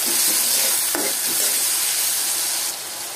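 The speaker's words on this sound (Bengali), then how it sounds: "এখন দিয়ে দেব পেঁয়াজ, পেঁয়াজের মধ্যে দিয়ে দেবো একটু লবণ যাতে পেঁয়াজটা নরম হয়ে যায়।" Onions with a pinch of salt frying in hot oil in a wok, giving a steady, close, bright sizzle that holds throughout with a brief stirring scrape near the start and a slight drop toward the end.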